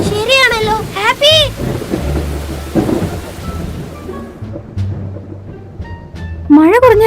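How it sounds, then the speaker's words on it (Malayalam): Cartoon storm with strong wind, rain and loud thunder rumbles under animated voices that shout over it, with the storm roaring steadily throughout. "അയ്യോ, നല്ല കാറ്റും മഴയാണല്ലോ"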